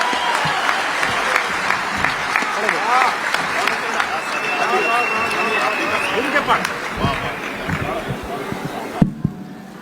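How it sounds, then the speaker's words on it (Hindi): Enthusiastic applause from a poetry gathering audience for a poet, loud mixed clapping with crowd noise and voices over it, fading out abruptly near the end. "भरत द्विवेदी के लिए एक बार दोनों हाथ उठाकर तालियां बजाइए जोरदार"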